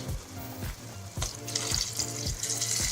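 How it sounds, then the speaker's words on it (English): A cup of water is poured into a pan of pork adobo with sizzling garlic, making a splashing, bubbling hiss with a few rhythmic knocks, close and moderately loud. "I'm gonna add about a cup of water."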